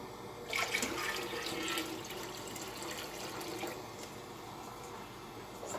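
Water is poured into sugar for citron jam, a steady splashing stream heard close for several seconds, fairly quiet and alone.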